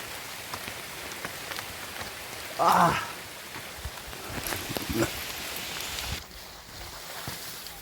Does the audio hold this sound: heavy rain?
yes